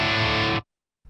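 A Les Paul electric guitar plays a sustained, heavily distorted chord through a Tonex ONE amp capture. It cuts off abruptly into silence, then a faint new strum begins.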